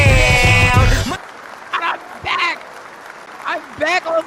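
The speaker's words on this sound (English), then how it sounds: "Let me turn the applause off, Mike." A burst of recorded applause plays loudly for about a second and cuts off abruptly, followed by someone talking in short phrases.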